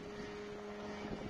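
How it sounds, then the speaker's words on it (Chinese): A large Predator unmanned helicopter with a 6-metre rotor lifts off at an international event in Zhejiang, giving a steady droning rotor hum with a low tonal whine over a short span. "现在直升飞机呢，无人机呢已经这个起飞"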